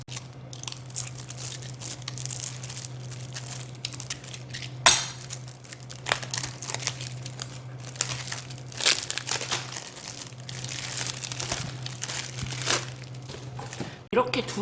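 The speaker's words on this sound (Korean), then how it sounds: "비닐이 안에 또 있네요" Plastic wrapping on a tarot card deck crinkles and crackles continuously at close range, with a steady low hum underneath and a few sharper crunches.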